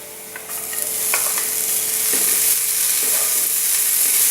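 Mushrooms and spinach sizzle loudly in a pan while being stirred, with intermittent scraping clatters of the spoon over a steady frying hiss.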